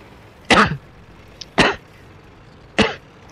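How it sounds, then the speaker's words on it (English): Three sharp, separate coughs sound close to the microphone, about a second apart, with quiet pauses between them. "Excuse me, bit of a cough."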